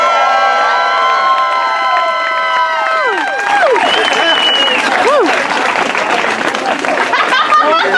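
Audience at a Macbeth performance bursting into loud applause and cheering after a scene, rising out of sustained tonal music and sliding musical notes, with shouts and voices in the crowd.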